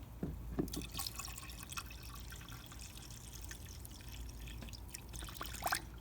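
Faint washer fluid trickling and scattered drips into a Lincoln Town Car reservoir, quiet and close, with small splashes and a light pour continuing throughout.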